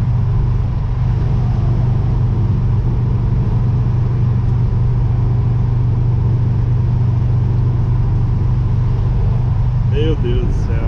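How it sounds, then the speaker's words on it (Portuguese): Trucks drive on the BR 116 highway, a continuous heavy road rumble and engine drone heard close from within traffic, with a voice briefly speaking near the end. "caminhão de um lado, caminhão do outro"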